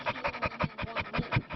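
Several dogs in Rocky Mount pant steadily in quick, rhythmic breaths, close and fairly loud, with no talking over them.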